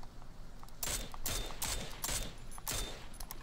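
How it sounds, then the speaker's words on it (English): Gunfire in PUBG, a string of five or six sharp cracking shots at a steady rhythm, fairly distant and quiet, with faint background game noise and no talk over them. "Did you start shooting at the dude at the cans?"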